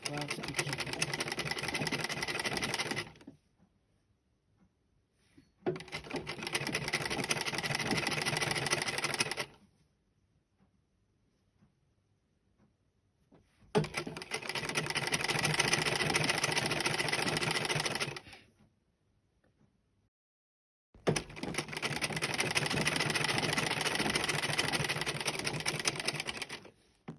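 A sewing machine stitches a hijab in four long, steady runs of fast, even whirring separated by quiet pauses, loud and near with a consistent rhythmic motor hum.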